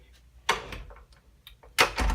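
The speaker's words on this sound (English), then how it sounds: "I'm going to shut the door." A bedroom door in a college apartment being shut, heard as a few sharp knocks and clicks with a louder thud near the end, close and separated by quiet gaps, no talking.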